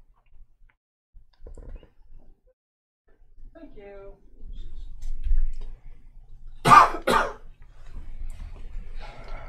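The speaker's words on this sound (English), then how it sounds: "Try not to cough in the mic." A sharp double cough bursts out close to the microphone after quiet moments with faint taps and soft rustling during a Treasure Island board game.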